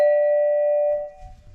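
A glockenspiel doorbell tone: one clear, bright metallic strike rings loud and close, holding steadily for about a second before cutting off into quiet background noise.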